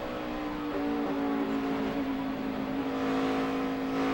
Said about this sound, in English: you can hear him working that throttle too, going through turn 3